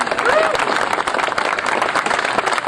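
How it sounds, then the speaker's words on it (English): A crowd at a Military Order of the Purple Heart parade in Peekskill, New York applauds, with dense, steady clapping throughout, fairly loud and close, and a voice heard briefly within it. "Let's give them a round of applause."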